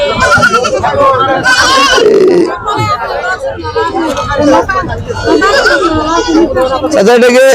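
Goats bleat loudly and repeatedly, close by, over a busy hubbub of people talking at a livestock market.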